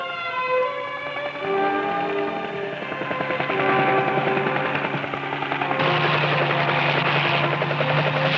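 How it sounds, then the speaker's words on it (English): A helicopter sits on Arctic sea ice with its rotors running, a loud, steady whine and pulsing chop that fills the whole stretch, with engine pitch shifting slightly partway through. "The helicopter pilot will keep the rotors going until he's certain the ice is strong enough to support us"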